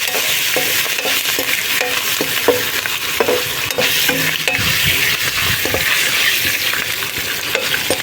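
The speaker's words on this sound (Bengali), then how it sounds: "তো আমাদের কারি পাতাটা ভাজা হয়ে গেছে।" Curry leaves fry in hot oil with ginger in a pan for paneer pulao, a loud continuous sizzle broken by repeated stirring scrapes and light clinks of the spoon against the pan.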